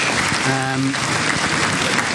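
Live radio-show studio audience applauds after a performance, a steady wash of clapping lasting throughout with a brief tonal voice-like sound early on.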